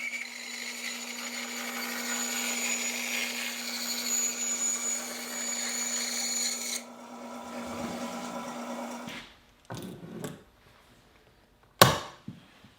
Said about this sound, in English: now I can trace the pattern and make this rough cut on the